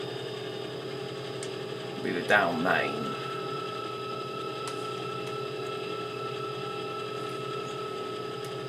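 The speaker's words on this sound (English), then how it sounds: "The engine's working hard, so we've got 2 Class 68s and we have 36 container flats behind us." Two Class 68 diesel locomotives work hard hauling 36 container flats over Shap on the West Coast Main Line, heard from the cab as a steady, droning engine hum with tonal whine, briefly under a man's speech.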